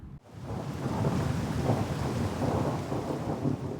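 A thunderstorm at night in a marsh by a chapel, with deep rolling thunder rumbling continuously over heavy rain, starting abruptly after a brief silence and staying loud and low throughout.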